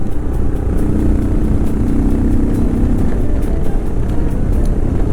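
A modified Royal Enfield Himalayan 411 motorcycle engine drones steadily while riding in the Vendée, mixed with loud, continuous wind rush buffeting the microphone.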